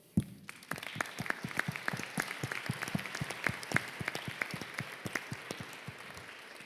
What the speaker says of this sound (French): qu'on va applaudir